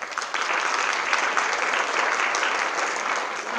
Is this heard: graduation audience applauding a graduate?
yes